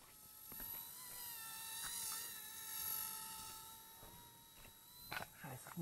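A radio-controlled mini scale helicopter flies close by with a steady, high whine that rises and falls a little. Someone speaks briefly now and then over it, and there are scattered clicks and rustles.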